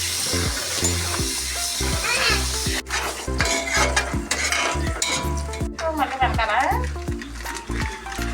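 Onions frying for veg biryani give a continuous crackling sizzle, with utensils scraping and clinking in the pan and a voice talking over much of it.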